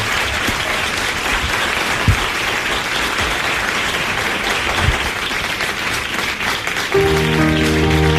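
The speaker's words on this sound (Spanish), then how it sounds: "Pido un aplauso para él, Salvador Freixedo, nuestro primer invitado" Audience applause for guest Salvador Freixedo, a steady wash of clapping from a studio crowd that runs throughout, with music rising underneath near the end.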